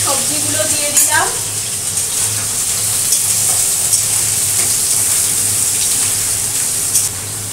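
Vegetables, including pumpkin stems, frying in a pan with a steady, loud hiss and sizzle that persists throughout, with a few clinks and stirring noises near the start.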